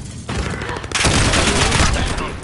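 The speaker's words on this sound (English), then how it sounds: "The fucking shotgun." Shotgun firing: loud, close blasts of gunfire with a harsh, sustained roar over about two seconds, overpowering everything else.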